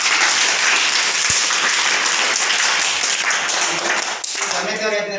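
An audience of schoolchildren and guests applauding at a free shoe and sock distribution in a village primary school, dense, loud, continuous clapping with voices mixed in.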